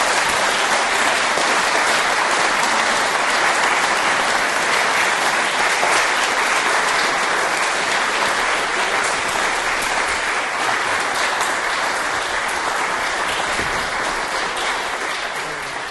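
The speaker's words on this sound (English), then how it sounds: "You hear from that applause how much the large audience here tonight have appreciated a really outstanding presentation from you." Long, loud ovation from a large audience in a London lecture room after a talk by President Vaclav Klaus, dense and sustained, easing slightly toward the end, with no speech over it.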